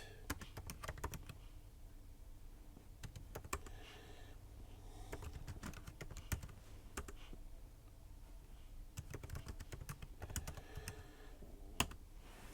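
Steady typing on a computer keyboard, quick irregular key clicks in bursts with brief pauses, close and fairly quiet, no voices.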